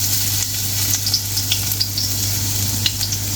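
Garlic, two teaspoons, sautéing in hot oil for a vegetarian stir fry rice, producing a loud, dense, continuous sizzle close by with faint scrapes of stirring throughout.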